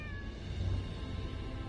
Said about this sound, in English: you can pet the cat